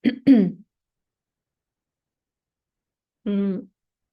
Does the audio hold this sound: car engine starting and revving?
no